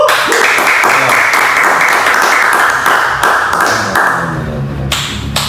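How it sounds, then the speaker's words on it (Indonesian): Audience applause welcoming a guest, a prominent lawyer, onto an Indonesian talk show: loud, dense clapping with sharp individual claps standing out, close and steady, thinning slightly near the end. "Langsung aja kita sambut, tepuk tangan lagi besar kita, Bang Hendra Supriyatna."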